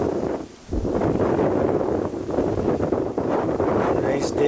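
Brisk prairie wind gusts steadily across an open rural rail line in Saskatchewan, a continuous broadband rush buffeting the microphone, dipping briefly near the start before roaring on loud and close.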